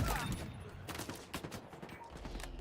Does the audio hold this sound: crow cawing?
no